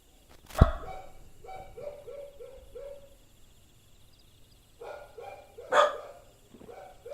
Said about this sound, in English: She normally never barks. But she likes to join in with the barking.